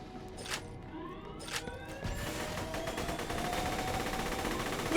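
Rapid weapon fire in Borderlands: The Pre-Sequel, a video game, building from scattered shots into a loud, sustained burst that grows denser toward the end, with electronic whine layered over the blasts.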